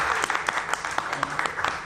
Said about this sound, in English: You're correct to clap.